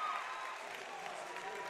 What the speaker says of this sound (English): And the crowd is getting into it